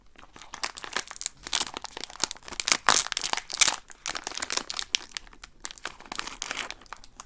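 Crinkly plastic wrapping of Carrefour's Oreo-style BTS biscuits being torn open, a close, loud run of irregular crackles, rips and crunches with short pauses and no talking.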